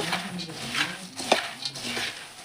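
A hand stirs chunumuri puffed-rice snack coated with gram flour in a pan, a steady, close crunchy rustle and scrape with brief clinks and no talking.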